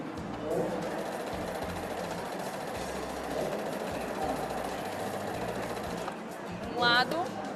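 Domestic sewing machine stitching fabric for a women's foot cover, a steady motor whir running through the clip, loud and close, with brief pauses and a higher whine near the end.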